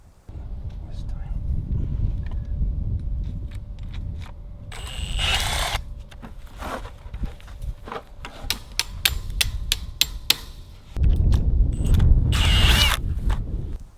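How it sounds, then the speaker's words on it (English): A power drill with a tie tool whirs in two loud bursts fastening T-post fence ties, separated by a run of sharp rapid clicks, with a steady low rumble outdoors. "We use a tool on our drill that fastens the T-post ties and cinches them down."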